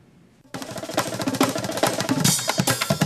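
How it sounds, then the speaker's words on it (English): New York City street noise starts abruptly after a quiet half second: a dense, busy wash of traffic and many chattering voices, loud and close, growing slightly fuller toward the end. "This is the sound of the city, a symphony of cluttered traffic, chattering voices, and the occasional street musician."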